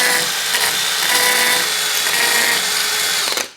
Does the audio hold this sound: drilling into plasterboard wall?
yes